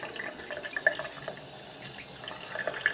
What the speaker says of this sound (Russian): Видно, как водичка течет потихонечку.